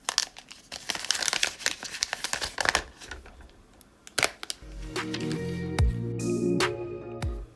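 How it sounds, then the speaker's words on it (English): Protective plastic film peeled off a Redmi Note 11 phone during an unboxing, close crinkling and tearing crackles in irregular bursts, then a smoother sustained peel with a few sharp snaps near the end. "let's go ahead and remove this peeling."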